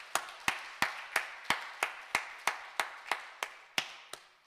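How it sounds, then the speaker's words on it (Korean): A church congregation at a morning service claps in a steady, evenly spaced rhythm, about three sharp claps per second, to welcome an engaged couple soon to be married. The claps are moderately loud and sound alone, with no talk over them. "이 시간 따뜻한 박수로 환영하도록 하겠습니다"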